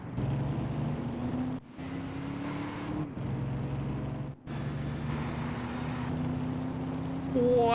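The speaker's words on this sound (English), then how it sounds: "Do you hear the engine on that?" A Gran Turismo 5 video game car engine drones at a steady pitch, rising and dropping with abrupt cuts between revs, fairly quiet and alone.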